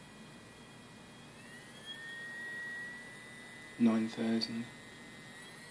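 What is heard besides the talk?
BLDC motor spinning at high RPM on ESC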